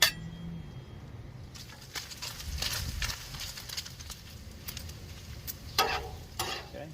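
Chopped bacon pieces cook on a Blackstone griddle with a constant close sizzle. Spatula scrapes and light metallic clinks break through now and then, with no talking.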